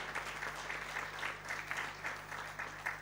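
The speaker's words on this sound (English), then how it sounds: "Please give him a big, big round of applause." Audience applause at a capital markets conference, steady clapping from a crowd lasting about three seconds, moderately loud and continuous, with a low electrical hum underneath.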